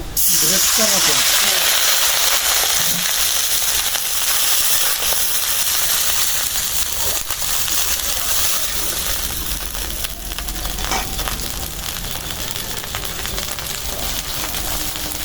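Onions and dried chillies fry in oil, giving a constant loud hiss and sizzle throughout with little change, a faint voice occasionally beneath it.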